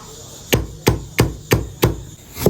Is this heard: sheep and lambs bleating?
no